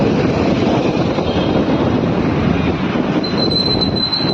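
A metro train rumbles steadily through Peddamma Gudi metro station, a loud, continuous roar of wheels on rail with a thin metallic squeal rising toward the end.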